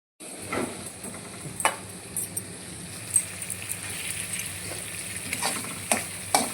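An egg frying in a pan gives a steady close sizzle and crackle, with faint scraping or clinking pops breaking through now and then and no voices.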